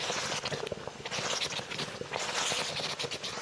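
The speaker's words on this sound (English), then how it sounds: "stir, stir, stir." A spoon scrapes and stirs blended tomatoes, garlic and onion in a pot, giving quick irregular scraping strokes with a soft wet sizzle, fairly close and moderately quiet.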